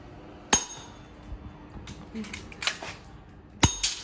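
A ZM toy pistol fires pellets at a target, two sharp cracks well apart, the second followed by a small clatter, with soft handling noises and low background hum between.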